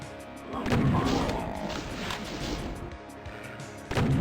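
Gunfire and blasts from the Doom-engine game Back to Saturn X, a dense stretch of shots and impacts with a sharp burst near the end, under game music.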